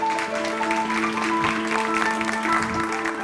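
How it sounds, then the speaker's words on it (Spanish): Steady audience applause at a film festival talk event, a dense continuous clatter of hands under sustained tonal background sound. "Para todos ellos vamos a dedicarles un fortísimo aplauso"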